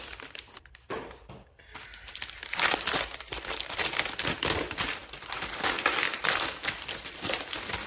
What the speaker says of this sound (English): If not, I will get a razor blade, as a matter of fact.